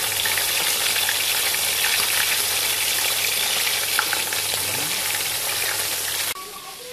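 Climbing perch fry in hot, spattering oil, giving a loud, continuous sizzle with crackling pops, heard close up throughout.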